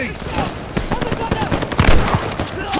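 Rapid machine gun fire in the Call of Duty Vanguard campaign, a dense run of rattling shots that grows heavier toward the end, with battlefield noise around it.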